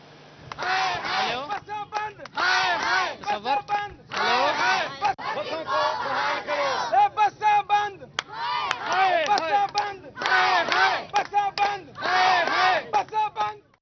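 Students and parents of the Workers Welfare School protest a transport shutdown near District Council Chowk in Millat Town, chanting slogans loudly in rhythmic group bursts with short pauses between rounds.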